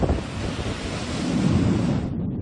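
Strong wind and heavy surf pound a municipal fish landing in Pio Duran, Albay during a typhoon, a steady loud roar of waves with buffeting wind noise on the microphone and no voices.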